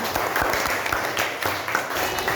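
Classroom of pupils clapping together after a group poster presentation, a dense, steady patter of many hands at close range with no talk over it.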